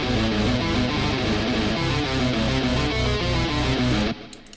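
Sidechained bass made in music production software for Flood Escape 2-style game music, pumping in a fast rhythmic pattern with loud low notes ducking and swelling, then stopping suddenly near the end.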